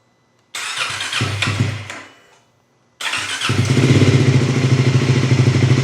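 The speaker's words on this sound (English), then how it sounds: "First cold start with the Yoshimura exhaust system on a Triumph 400." A Triumph 400 motorcycle fitted with a Yoshimura exhaust cold-starts: the starter cranks with clatter and the engine catches, dies away, then restarts into a loud, steady, deep idle close by.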